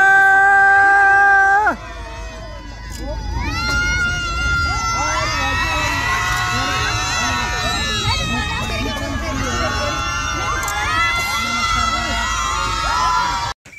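A group of people at a picnic cheer, whoop and hoot together, a loud continuous chorus of overlapping shouting voices lasting about eleven seconds after a brief opening tone.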